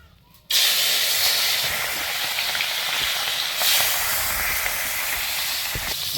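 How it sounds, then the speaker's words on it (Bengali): Puti fish are laid into a hot wok (kadai) and an instant loud sizzle bursts up, then settles into a steady, close frying hiss with faint crackles. "এবার আমার কড়াটা গরম হয়ে গেছে, এবার মাছ ছাড়ছি, ভাজা করব।"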